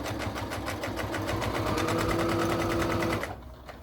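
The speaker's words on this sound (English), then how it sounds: "So at the bottom of the pocket, we want to back stitch." Sewing machine back-stitching fabric at the bottom of a pocket, a steady rapid mechanical chatter of needle strokes running continuously for a few seconds, close and loud, before stopping abruptly.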